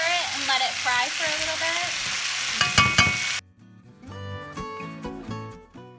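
Potatoes frying in a pan, a loud close sizzle with stirring scrapes that cuts off abruptly, followed by quieter clinks and a voice talking.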